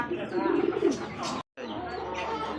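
A pair of Rajshahi Giribaz pigeons coo softly and briefly, with a person talking over them at close range.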